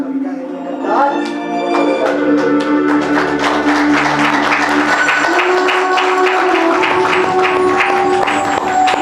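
A Hindi theatre audience applauds at the end of the play, the clapping swelling in after a sustained musical tone and continuing loudly and steadily over music that keeps playing.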